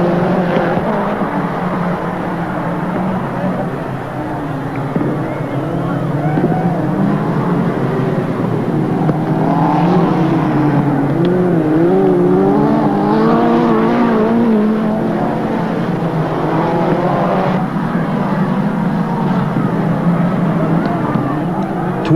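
Midget race cars competing at Western Springs Speedway during a 1984/85 international series, engines droning continuously with rising and falling whines as cars pass, loud and sustained, with commentary voice over the top.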